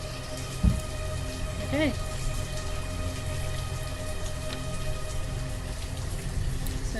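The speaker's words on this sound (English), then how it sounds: "Goodbye rain." Steady rain falls on a town in the Banished city-building game, a soft, even hiss running throughout under game music tones. A person briefly speaks once near the start.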